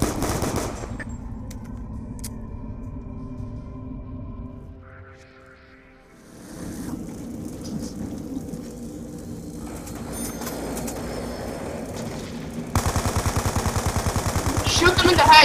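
Gunfire in Black Ops 2 Zombies, with steady bursts of automatic weapon fire and game noise running through the scene, briefly thinning out, then returning louder near the end.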